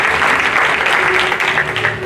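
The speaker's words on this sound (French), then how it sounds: "j'aimerais encore qu'on applaudisse pour ce pays" An audience applauds at a live show, loud and dense clapping from many hands that stays steady throughout.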